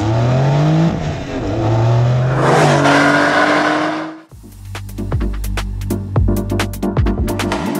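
A 2023 Porsche 911 Carrera T with standard twin oval exhaust outlets revs loudly up close, rising and falling through several blips, then settles into crackling, popping revs near the end.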